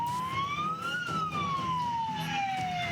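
A wailing emergency siren from fire engines heading to a blaze in Pasuruan sweeps slowly up and then gradually down in pitch, loud and steady over a rumbling street background.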